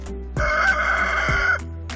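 A farm rooster lets out one long, clear crow, close and steady, drawn out for over a second before breaking off.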